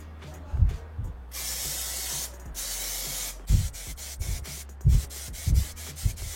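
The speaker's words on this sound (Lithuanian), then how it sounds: "Na ką, pabandykime pažiūrėti ar purškia." Plasti Dip aerosol spray can hissing as it coats a computer case, several steady bursts of close, loud spray separated by knocks and handling thuds, with no talking.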